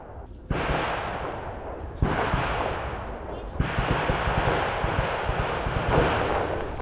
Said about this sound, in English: You can hear gunshots throughout this exploration because of a shooting range nearby.